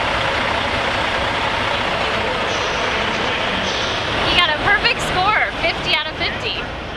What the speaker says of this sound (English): Truck after truck rolled across the courses throughout the morning and well into the afternoon.